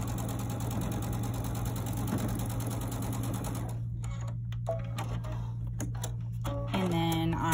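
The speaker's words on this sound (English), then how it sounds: "then we will sew those two sets right sides together" A sewing machine runs steadily, stitching two sets of Kimberbell Love Notes quilt blocks right sides together. It makes a close, even mechanical hum that slows and breaks into softer clicks and handling noises toward the end.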